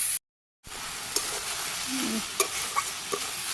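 Water lily stems frying on a home stove, a soft steady sizzle after a brief silence, with a few light clicks and scrapes scattered through.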